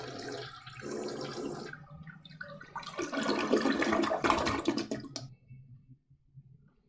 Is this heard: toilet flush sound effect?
yes